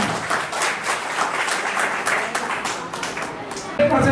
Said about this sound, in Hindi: ये ऐसे प्रमोद दुबे के लिए जोरदार ताली